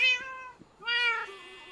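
A Minecraft cat mob meows twice, each meow bright and clear with a brief gap between them, loud and alone over a faint background.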